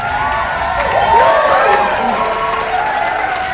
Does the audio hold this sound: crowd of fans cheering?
yes